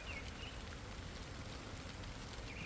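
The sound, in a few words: rain falling at a maple nursery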